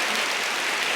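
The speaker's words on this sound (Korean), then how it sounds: "열심히 준비했으니까 박수 한번 주세요" An audience claps at a university freshman welcome event, a dense and even wash of applause that fills the short moment.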